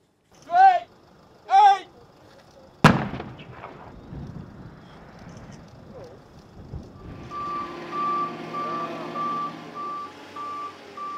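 A controlled detonation of a WWII 500-pound aircraft bomb found during construction work in Breskens sounds as one sudden, loud, sharp blast after a few seconds of quiet. The blast fades into a long rumbling tail, and a vehicle's reversing beeps repeat steadily afterward.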